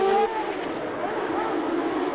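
David Brabham's Brabham Formula 1 car during the 1990 Australian Grand Prix warm-up in Adelaide, heard onboard as a steady high engine whine, with a commentator talking over it.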